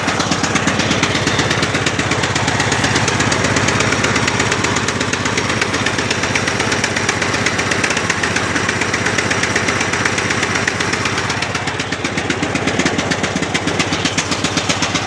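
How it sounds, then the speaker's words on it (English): A new Murray riding tractor's small engine running steadily on choke, a loud, even, rapid chugging drone held without pause, close up and alone. "Let it warm up on the choke a little bit, and then you can turn the choke off. I think it runs pretty good."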